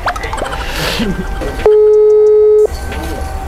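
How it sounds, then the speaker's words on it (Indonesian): A single long steady ringback tone from an unanswered phone call cuts in loud and clean for about a second, with outdoor construction-site background noise before and after it. "Kita telepon Pak Jasari, kok nggak diangkat?"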